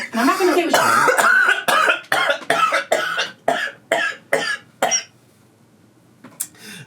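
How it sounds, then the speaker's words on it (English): Laughter breaking into a string of rough, percussive coughs, about a dozen bursts in quick succession that thin out before a final cough after a short pause, close and loud. "I started laughing and it ended in a cough"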